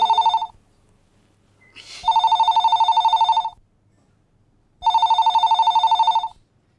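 Telephone ringing in a Tamil TV serial scene, two or three bursts of a bright electronic trill separated by short pauses, clear and fairly close with no talk.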